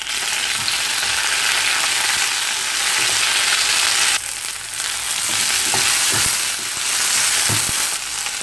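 Shallots, dried chillies and tomato sizzle loudly in hot oil for mint chutney, a dense crackling fry broken by a few stirring scrapes near the pan.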